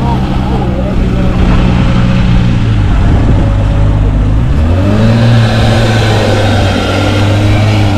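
A 2020 Toyota Supra A90 engine idles loudly up close with a deep droning note, then revs up and settles into a higher steady drone; people talk briefly over it.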